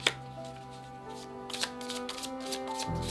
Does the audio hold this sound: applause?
no